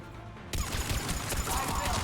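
Gunfire in the Mass Effect 3 video game breaks out suddenly in a dense, loud burst of rapid shots that continues steadily to the end.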